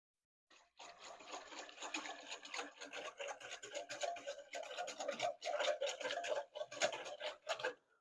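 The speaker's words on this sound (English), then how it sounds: "Whisk it up in there, y'all." A whisk scrapes and rattles briskly against a bowl, mixing a Cajun sauce with brown sugar, a quiet, close, continuous swishing for several seconds.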